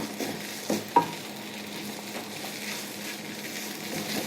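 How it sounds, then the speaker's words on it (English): Spoon stirring a spiced egg puff masala filling with garam masala and meat masala in a frying pan, a soft steady sizzle with a couple of light scrapes and taps near the start, no talk. "So we'll mix this well now."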